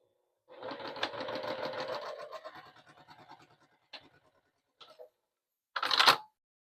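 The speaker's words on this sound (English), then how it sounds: "I'm going to sew right across it" A sewing machine runs steadily for about two seconds while stitching across quilt binding on a wall hanging, then slows through a few uneven stitches and stops. Short separate clicks and a louder burst follow near the end.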